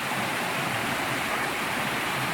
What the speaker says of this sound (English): This is Hickory Branch Falls. Nice little 25-foot waterfall.